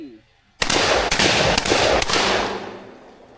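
Rapid series of loud, close gunshots fired during a shooting drill, four or five sharp reports in quick succession with ringing decay after each, ending in a fading tail.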